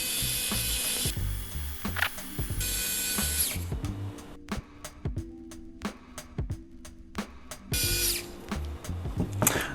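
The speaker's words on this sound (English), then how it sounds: "And now just screw them all the way down." Small screws being driven into a 6S freestyle FPV drone frame with a ratcheting driver, giving repeated close, crisp clicking bursts with short pauses between turns.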